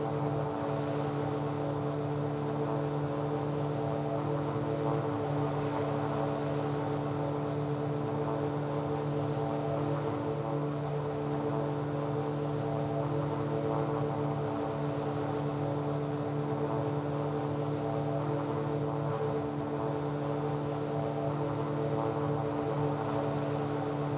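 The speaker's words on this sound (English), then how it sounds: "The Drifter ultralight from Ant's Airplanes is actually a new ultralight I got for today." The engine of the Drifter ultralight aircraft from Ant's Airplanes in a flight simulator drones at a constant, even pitch throughout, with a steady tonal buzz and no pauses.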